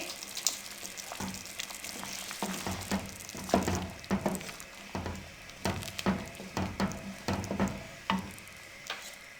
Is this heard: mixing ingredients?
yes